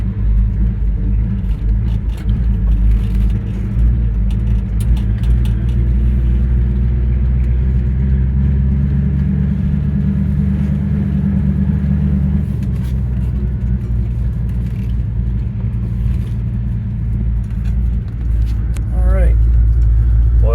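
A 1966 Ford Fairlane GT with a 390 V8 and four-speed idles steadily after a long warm-up, a low continuous rumble heard beneath someone talking throughout.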